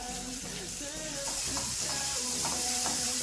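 Green chillies, ginger and chopped onion frying in oil for a samosa filling, a steady close sizzle with soft stirring scrapes and clinks running throughout, no voices.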